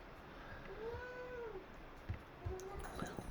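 A cat gives one drawn-out meow, then a shorter chirp follows, close by, over low background hiss and light tapping.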